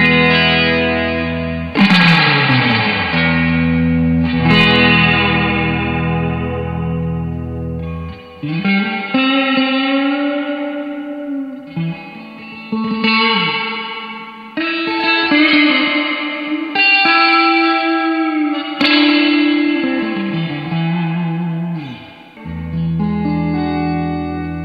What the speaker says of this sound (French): Et je joue dans une toute petite pièce et la reverb est énorme.